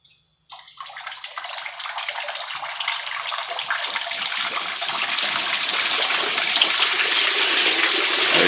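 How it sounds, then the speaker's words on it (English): Water gushes steadily out of the holes of a bait live well as it fills from a bucket, a continuous splashing pour that starts abruptly and grows slightly louder, close by with no talk. "All the water will start pouring out these holes."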